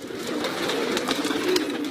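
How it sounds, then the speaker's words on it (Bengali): Pigeons on a farm housing around 1300 pairs, cooing and fluttering in a dense, continuous chorus at close range, no talk over it. "এখন তার খামারে রয়েছে অন্তত 1300 জোড়া কবুতর"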